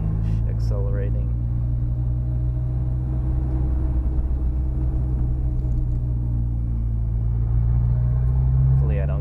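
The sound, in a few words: Galant VR4 with downpipe and loud exhaust accelerating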